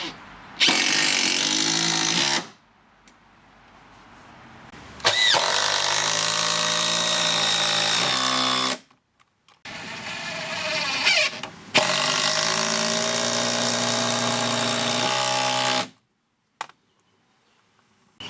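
Close, loud bursts of a power tool driving 5-inch SDWS screws into wood joists: three long runs of whirring drive separated by short pauses, each one rising in pitch as the screw sinks.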